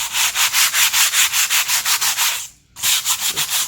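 Quick, regular strokes of sandpaper rubbing over rough spots on wood paneling, loud and close, with one brief pause before the rhythmic scratching resumes.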